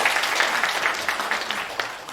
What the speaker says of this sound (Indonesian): Dan tepuk tangan kita semua.